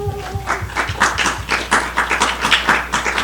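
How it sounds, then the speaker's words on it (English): A round of applause at a church confirmation service for the Class of 2020, many hands clapping in a dense, steady patter that stays loud throughout. "Let's give him a round of applause."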